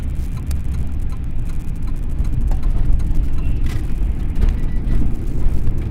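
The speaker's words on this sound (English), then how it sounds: "And that's a semi." A semi truck passes on Highway 21 in rural Saskatchewan, a loud low rumble of engine and tires swelling steadily and close throughout.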